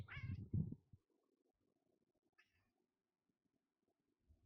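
A pet cat gives a near, fairly loud meow, then falls silent, with a faint, distant second chirp-like meow moments later in an otherwise quiet room.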